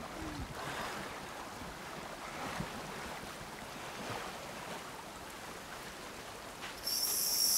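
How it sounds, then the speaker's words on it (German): A river flows continuously in the survival video game Sons of the Forest, a soft, steady rushing wash of water with wind-like noise and a brief brighter burst near the end. "hier ist der Fluss"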